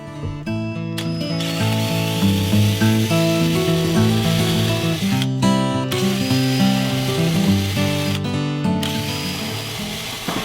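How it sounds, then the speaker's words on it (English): A power drill with a sharp bit whines steadily at close range, its motor pitch shifting as it bores holes through a wooden cabinet using a clamped jig, with brief pauses between holes. "With the jig clamped down, I'm ready to drill my holes."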